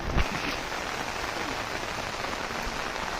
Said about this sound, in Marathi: एवढ्या पावसात मला पार्क करायचं होतं पण पाऊस पडलाय